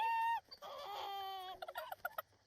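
Chickens clucking in a coop in The Sims 4, a quiet series of short bird calls and clucks in rapid bursts, with no talk.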